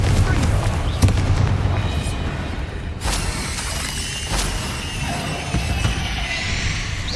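Confringo and Bombarda spell blasts go off in the Hogwarts Legacy video game, with sharp booming bursts and shattering crashes layered over dense game noise and shouted incantations.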